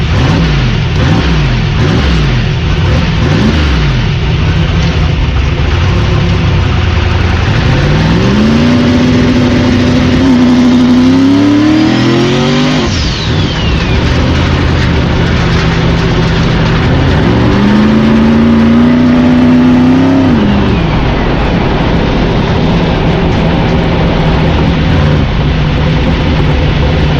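A turbocharged Saturn car revs hard and accelerates, its engine climbing in pitch twice with loud, sustained roaring up close and no voices.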